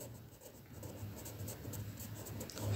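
Pen writing out a business math solution on paper, a soft continuous scratching and rubbing at low level, close to the microphone.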